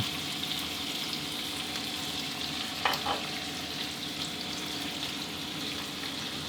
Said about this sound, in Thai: เร่งไฟแรงขึ้นมาเลยนะ แล้วก็ตามด้วยกุ้งที่เราทอดมาสักครู่ครับ